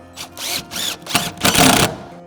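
Self-tapping screws are driven into a garage door with a power driver in four quick whirring bursts that rise in pitch and strain, the last one longest and loudest.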